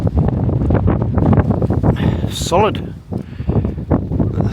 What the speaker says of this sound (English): It's never stopped blowing, like the wind's been awful.